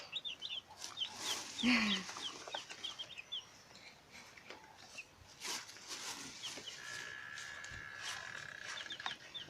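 Chickens on a farm at feeding time, with scattered clucks, a wing flap and a short fowl call in the foreground over a steady outdoor bird-chirp background.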